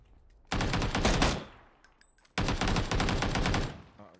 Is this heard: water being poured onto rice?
no